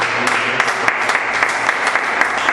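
Congregation applause at the close of a Sunday church service, dense steady clapping with sharp individual claps throughout, fairly close and loud, with no voice over it.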